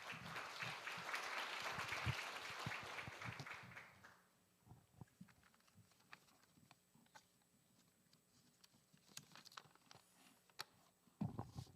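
A forum audience applauds to welcome a university vice president to the stage. Thick clapping fills the first few seconds, then thins into scattered claps and small knocks in a quiet hall.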